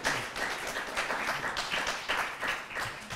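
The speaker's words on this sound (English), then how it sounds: "Let's give our panelists a round of applause." Steady applause from a conference audience for a panel on internet governance, many hands clapping at a moderate distance with an even, continuous texture and no talk.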